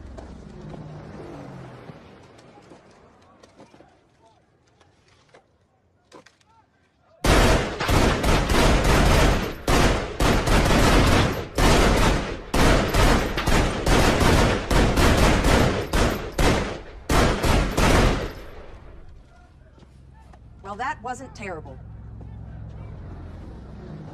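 Loud bursts of rapid gunfire fill an action movie scene, a dense fusillade of close, overlapping shots lasting about ten seconds, framed by quieter ambience and rumble before and after.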